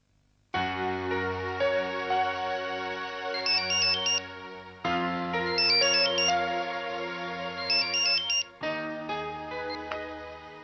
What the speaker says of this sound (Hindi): मुझे यकीन था कि आपका ही फोन होगा।